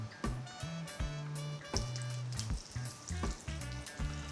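Fish frying in hot oil, crackling and sizzling up close in uneven bursts, with a low hum running beneath the spitting.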